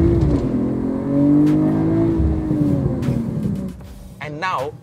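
BMW M340i turbocharged six-cylinder engine revving through a downshift, a loud, close engine note that rises then settles, with someone talking briefly near the end.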